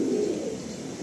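A Madrasi pigeon gives a short, close, resonant coo, alone and fairly loud.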